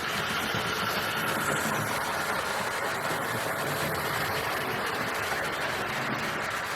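A 1970s Hornby or Lima GWR King Class model locomotive with a Ringfield motor runs steadily, a continuous close whirring motor hum with a faint rattling texture and no talk over it.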